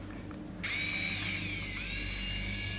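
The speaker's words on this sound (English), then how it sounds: "drill a hole wherever you like it" A small power drill starts suddenly and runs with a steady high whine while boring a hole in a polymer clay earring. The sound is close and continuous after a brief moment of quiet.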